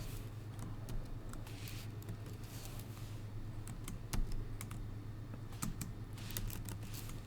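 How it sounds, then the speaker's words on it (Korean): Scattered computer keyboard keystrokes press a Ctrl+Shift+Slash shortcut, a few sharp clicks spread over several seconds, close and fairly quiet above a low steady hum. "컨트롤 시프트 슬래시를 눌러보시게 되면"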